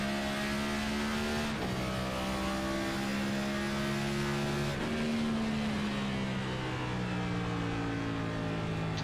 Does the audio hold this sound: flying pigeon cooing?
no